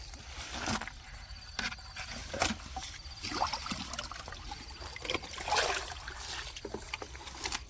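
Water is scooped from a pit in a rural village, producing intermittent splashes and trickles at an uneven pace, close by, with no talk.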